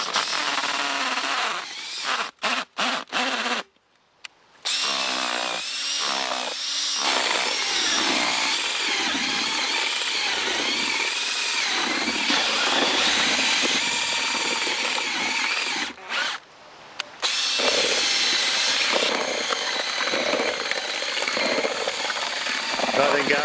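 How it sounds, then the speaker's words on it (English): An electric drill churns and mashes fishing bait for tope fishing, a loud, steady grinding whir close by that runs almost continuously with two brief stops, and a voice speaks under the noise. "so I can use the drill, and we'll get these mashed up"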